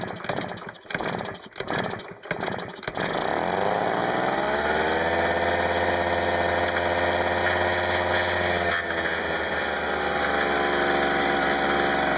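A small two-stroke engine of a Yamaha YB-1 moped sputters through a few short bursts, then catches and runs at a steady, buzzing idle close by.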